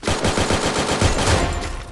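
Rapid machine gun fire from the battle royale game Free Fire Max, delivered as loud, dense bursts of closely spaced shots that run continuously through the whole stretch.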